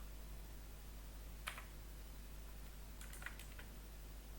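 A few faint keystrokes on a computer keyboard tap out in two short bursts over a low, constant electrical hum, with no talking.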